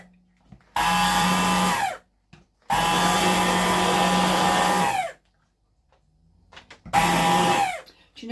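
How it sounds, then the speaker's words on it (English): Hand blender whirring through chicken vegetable soup with corn, broken spaghetti and metal blades, running in three loud bursts of about one to two seconds each with short silent pauses between. "now I'm just getting my trusty hand blender"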